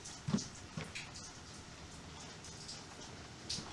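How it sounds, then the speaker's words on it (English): Morning rain falling steadily outside, a soft even hiss with a few louder drops or knocks near the start and end, quiet and fairly distant. "So it's raining right now."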